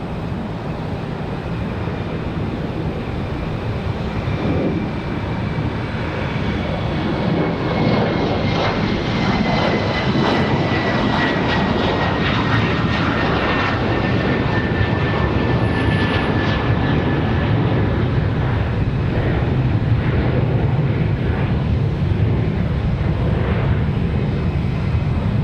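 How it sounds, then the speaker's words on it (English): An Air Canada Embraer E175 jet takes off at Raleigh-Durham airport on a windy day, its engines a loud, steady roar with a rising whine, heard alone and close throughout. "So Air Canada back to Montreal. This is E175."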